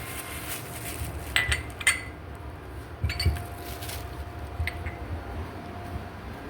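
Washed dishes and pots being put away in a home kitchen: a few scattered, faint clinks and knocks of crockery and metal against a quiet background.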